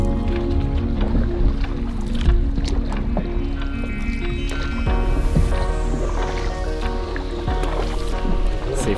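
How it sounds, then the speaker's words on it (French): Paddles dip and splash through water against a steady rushing background, with faint voices now and then. "Puis ça prend tout le monde pour pagayer."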